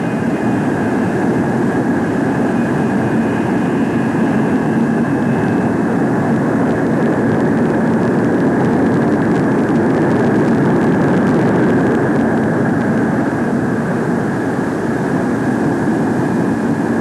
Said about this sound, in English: Now let's watch the first approach and landing.